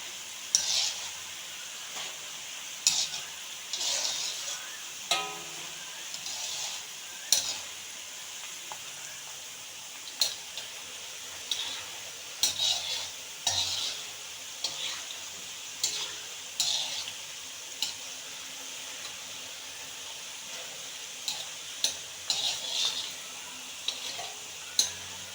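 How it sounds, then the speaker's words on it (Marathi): Jackfruit bulbs frying in oil in a pan as they are stirred, giving a steady soft sizzle broken by repeated light scraping and clinking strokes at an irregular rhythm, close by, with no talking. "हे सतत असे ढवळत राहायचे, म्हणजे ते वरती खालती व्यवस्थित शिजले जातात"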